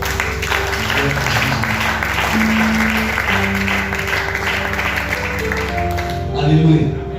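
A church congregation applauding the Lord, a loud, sustained crowd of clapping that fills the room, mixed with voices and held organ-like tones that swell near the end.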